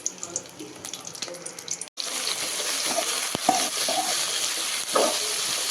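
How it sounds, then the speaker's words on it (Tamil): Onions hit hot oil in a pan for coriander chutney, a brief quiet stretch giving way to a sudden steady sizzle that carries on, with a few small pops and clinks over the frying. "இப்போ வந்து எண்ணெய் காஞ்சதுமே வந்து வெங்காயம் சேர்த்துக்கலாம்."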